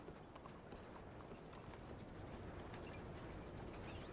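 Horse hooves walking in Red Dead Redemption 2, a steady clip-clop mixed with creaking, rattling tack and a dense rumble of game ambience, no voices.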